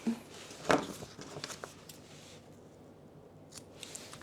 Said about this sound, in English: find the center. And give myself a snip